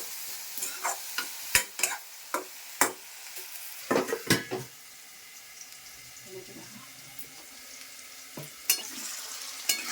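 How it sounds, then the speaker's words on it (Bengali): Potatoes frying in a pan with turmeric, sharp scraping stirs and clinks punctuating a soft steady sizzle, with a few louder bursts of stirring near the start and middle. "আলুগুলো ভাজা হয়ে গেছে,"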